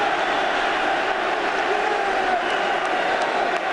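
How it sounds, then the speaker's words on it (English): Rugby World Cup 1999 quarter-final stadium crowd cheering for Argentina against France, a broad sustained roar of many voices filling the ground, steady and distant-sounding with a commentator talking faintly over it. "they're cheering Argentina"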